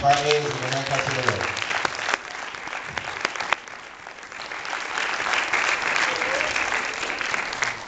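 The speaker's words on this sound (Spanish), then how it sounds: "un aplauso al Señor" Church congregation clapping at a Spanish-language sermon, sustained applause building and holding steady, with a voice briefly audible at the start.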